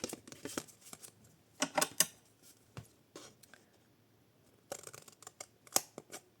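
Scissors or a blade cutting a paper box for washi tape drawers, short crisp snips and rustles in small bursts separated by pauses, quiet and close, no talk.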